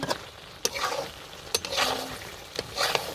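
Goat meat cooks in a pan for an aqiqah meal, sizzling and frying while a utensil scrapes and stirs in sharp, repeated strokes, close and fairly quiet.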